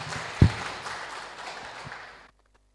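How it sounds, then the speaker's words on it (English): Audience applause at a speaking contest as a contestant is welcomed to the podium, a single loud thump at the start, then a moderate wash of clapping that fades and stops abruptly, leaving silence. "please welcome our fifth contestant, Chao Chefang, to the podium with a big round of applause"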